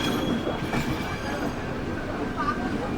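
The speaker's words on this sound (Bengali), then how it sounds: "শিয়ালদা স্টেশনের 11 নম্বর প্ল্যাটফর্ম থেকে ট্রেন ছেড়ে এখন" A train pulling out of platform 11 at Sealdah station, a steady close rumble of railway carriages with faint wheel squeal throughout.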